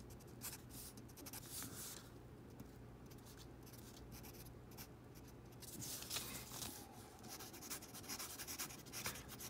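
A Schneider Easy fountain pen with a medium nib scratches steadily across paper, with continuous close-up nib friction and small strokes and pauses that grow slightly busier toward the end.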